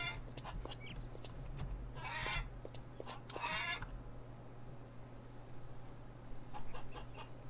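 Chickens cluck and squawk in scattered bursts over a low steady hum in the farming game Farmer's Dynasty, fairly quiet and without talking.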